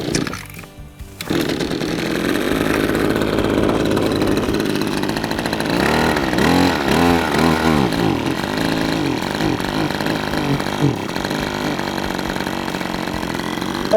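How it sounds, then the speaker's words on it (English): A Cobra MT270K multi tool's new petrol engine is pulled into life after a brief rough start, then settles into a steady, close, loud idle with a continuous buzzing putter that holds for the rest of the clip. "it's now ticking over nicely, and you can let it warm up"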